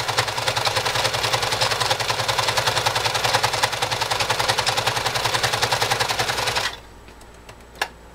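Vintage Riccar 29 home sewing machine stitching steadily, a fast, loud, even mechanical clatter that runs without pause for several seconds and then stops abruptly, leaving quiet room tone and a single faint click.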